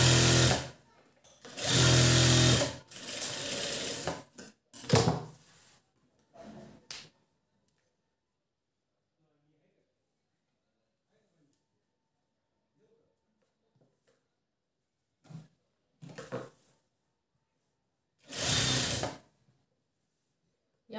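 Sewing machine stitching the border of a blouse made from leftover saree edging, several short loud bursts of stitching separated by long quiet gaps, near and alone.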